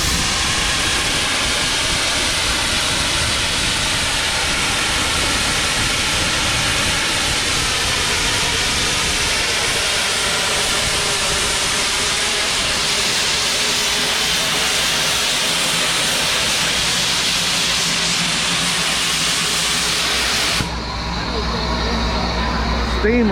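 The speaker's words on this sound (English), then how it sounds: "Steam letting off there, keep the engine cool." A steam locomotive on a heritage railway vents steam in a long, loud continuous hiss that cuts off abruptly near the end, with talk in the background.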